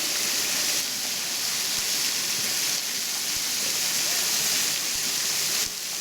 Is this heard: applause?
no